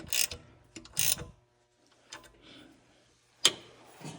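Ratchet tightening catalytic converter bolts on a Dodge Grand Caravan, a few short clicking bursts spaced apart, close by.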